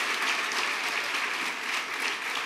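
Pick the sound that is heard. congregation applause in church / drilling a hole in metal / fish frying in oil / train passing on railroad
congregation applause in church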